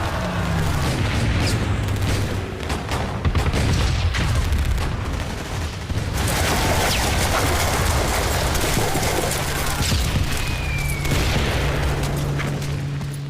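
Battlefield fire with rocket launchers, mortars and machine guns on a beach landing, a dense continuous roar of booms and gunfire rumbling throughout, loud and unbroken with no clear single shots.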